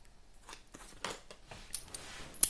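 A deck of tarot cards is shuffled close up, giving a few soft, papery swishes and light snaps over about two seconds.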